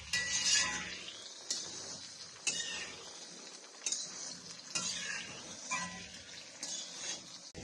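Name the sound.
sautéing whole tomatoes in a pan for tomato chutney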